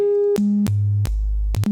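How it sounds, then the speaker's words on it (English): A Tau Hydrae mono synth with an LM13700 VCA plays a plain sine wave, loud and clean, stepping through a few sustained pitches separated by sharp clicks. "simple sine wave here"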